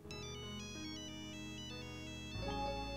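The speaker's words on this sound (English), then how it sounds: "A ringtone could be heard nearby" A phone ringtone plays close by as a bright, repeating electronic melody over a sustained tone, shifting to a fuller phrase near the end of the short burst.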